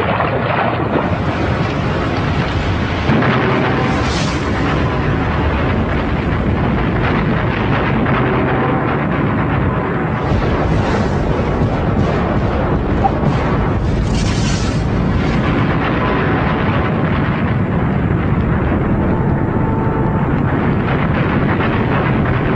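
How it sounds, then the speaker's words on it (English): A massive volcanic super-eruption blast, heard as a loud, sustained roaring rumble that fills the whole clip with churning, wind-like turbulence and no voices. "The blast of a super eruption would be awesome enough"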